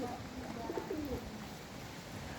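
An injured pigeon gives soft cooing calls. They are faint and low, set against a quiet background hiss.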